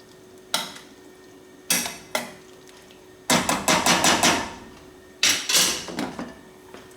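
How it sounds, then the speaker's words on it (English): A spoon stirs and scrapes through tomato sauce in a pot, producing several separate clinking scrapes followed by a fast run of repeated knocks against the pot, loud and close with no talking. "I want to give our sauce a little stir"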